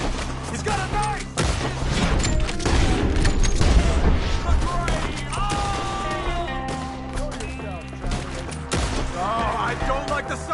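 Repeated bursts of gunfire crack through a dense, chaotic battle mix of booms and clatter, with shouting voices over the top throughout.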